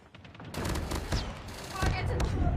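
Rapid bursts of player gunfire in a fast-paced shooter video game, loud and dense clusters of shots that carry through most of the stretch, with a voice faintly underneath.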